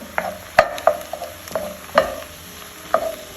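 Onion and minced garlic stirred in a STAUB pot, a handful of distinct scraping knocks of a spoon against the pot over a soft background sizzle, close and clear, no talking.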